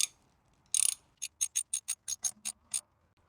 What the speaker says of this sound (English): I'm going to hand thread that one and then take my wrench and go the rest of the way